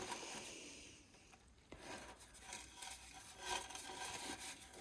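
Fresh glue is scraped off the bottom of something with a faint, raspy rubbing and scraping in a few uneven strokes, quiet and close, with no talking.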